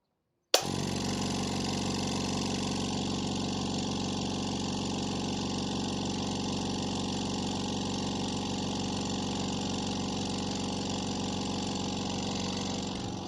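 An oil-less HL1 1/4 30L air compressor starts with a sharp click and then runs with a steady, even motor drone and hum that stays close and constant for over ten seconds.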